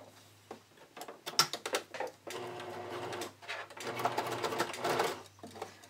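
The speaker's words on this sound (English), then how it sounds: "And just like before, I'm just going to stitch it on." A sewing machine stitches the straight gusset edge of a bodysuit in quick, uneven bursts, its needle rattling close and fairly quiet over a faint low hum.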